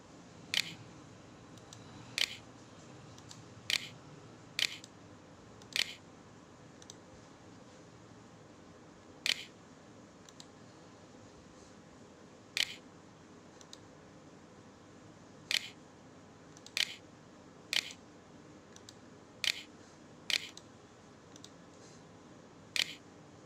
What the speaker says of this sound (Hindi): अभी मैं यहाँ पर अपने कंप्यूटर कीबोर्ड का यूज़ कर रहा हूँ।